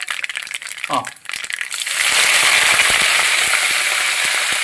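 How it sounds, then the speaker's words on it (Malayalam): Mustard seeds pop and splutter in hot oil for a Kerala-style cassava and beef biryani, with sharp crackles that swell into a dense loud sizzle after a brief rustle at the start. "കടുക് നന്നായിട്ട് പൊട്ടി വരുന്നു."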